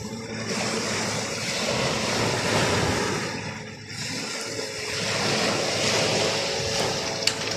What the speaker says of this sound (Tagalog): lumalakas yung alon